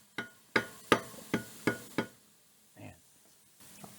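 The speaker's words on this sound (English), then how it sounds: "big hammer." Heavy hammer striking metal parts during assembly of a turbocharged Chevrolet Corvair engine: six sharp, loud blows in fairly even rhythm, then a pause and two softer knocks.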